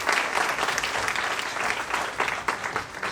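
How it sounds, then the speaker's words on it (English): An audience at a college seminar gives a round of applause, steady dense clapping at moderate volume filling the whole moment. "Can we have a big round of applause for this one?"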